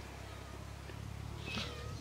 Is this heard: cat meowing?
yes